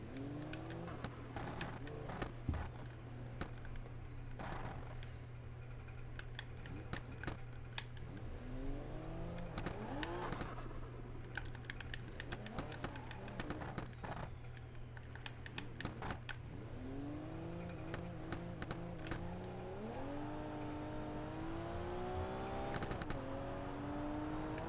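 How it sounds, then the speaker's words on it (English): A car engine in the BeamNG Drive driving game revs up and down in repeated rising and falling sweeps, loud and close. Sharp clicks, like keys being tapped, are scattered throughout. "It doesn't like revving all the way over that."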